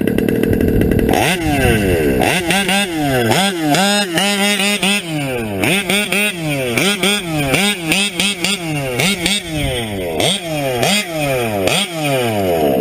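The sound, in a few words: modded TLR 5B reed engine idling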